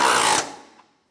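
12mm bolts on the starter of a 2011-2016 Hyundai Elantra are tightened with a short, close mechanical whir that cuts off after under half a second and fades quickly, with no talking.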